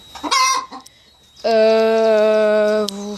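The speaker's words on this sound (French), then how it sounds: "Oh, elle est en train de caqueter." A hen cackles loudly after laying in a backyard henhouse: a short burst of clucks, a pause, then a long sustained cackling call close to the microphone.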